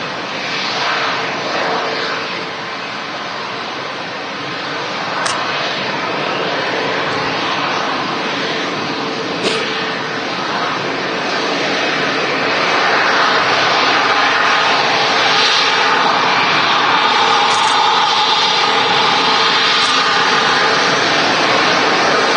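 Jet engines of an airliner roar loudly at Manchester Airport, a sustained, broad, close engine noise that swells a little as the aircraft revs, with faint scattered sounds over it.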